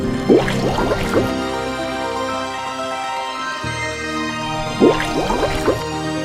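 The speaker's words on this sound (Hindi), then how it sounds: "यह कहकर वरुण देव ने पानी में डुबकी लगाई।" A cartoon character dives into river water, giving bubbly splashes and gurgling drips in two clusters, one at the start and another near the end, with a quiet watery hum between them.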